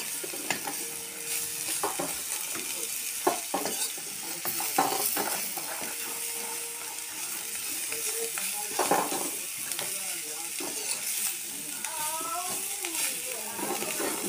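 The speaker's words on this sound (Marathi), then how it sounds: "आता हे असं कारलं पूर्ण म्हणजे मस्त मिक्स करायचं." Bitter gourd being mixed in a pan, with repeated scraping and clattering of a spoon over a steady frying sizzle. The sound is fairly close and continues throughout, while a voice talks quietly at times.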